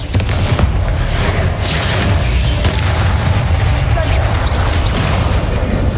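Continuous booming explosions from the Bombarda blasting spell in the game Hogwarts Legacy, loud and dense with overlapping rumbles and scattered cracking pops throughout six seconds of chaotic combat, no clear voices.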